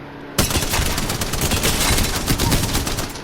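Rapid automatic gunfire from a 55-round-magazine gun hip-fired in the Apex Legends video game: a sudden, loud, sustained burst of dense shots that runs unbroken to the end.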